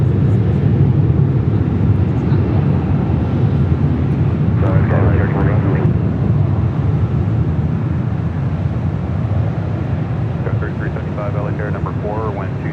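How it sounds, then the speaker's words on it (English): A freshly painted Boeing 737-800 in California One livery departs Los Angeles International Airport, its jet engines a loud, continuous roar throughout, with a voice talking briefly in the background. "we do have the California One newly, freshly painted 737-800"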